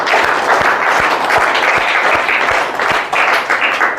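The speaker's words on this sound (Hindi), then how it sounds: "तो एक बार सहीराम जी के लिए जोरदार तालियां।" A school gathering in a village in Churu district bursts into loud, sustained applause for Sahiram ji, a dense close crowd of clapping hands with a few sharper individual claps poking through, steady for several seconds.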